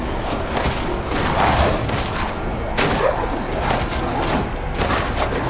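Rapid bursts of gunfire from the horror game Resident Evil Village, loud and continuous with several heavier shots landing in a dense, sustained barrage close up.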